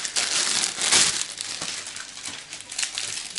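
Plastic packaging around a child's costume crinkles and crackles loudly as it is opened, in a dense, continuous rustle with sharper crunches near the start.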